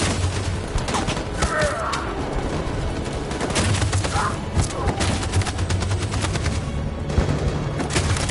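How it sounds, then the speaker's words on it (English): Sustained machine gun fire rattles in a dense fusillade of rapid gunshots in the Detroit: Become Human battle, loud and continuous, with shouted voices mixed into the chaos. "That machine gun is taking down everything that moves!"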